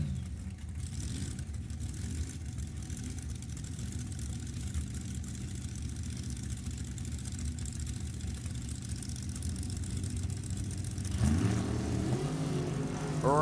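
Drag racing car engine idling at the start line at a drag racing event, a steady rumbling idle that carries on throughout, then swells and revs louder near the end, with no voices.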